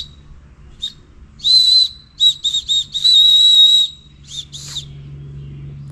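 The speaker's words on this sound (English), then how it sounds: "We got a whistle here," A safety whistle on a Lululemon Fast and Free trail running vest blows a series of loud, shrill blasts, some short and some held, close up and alone.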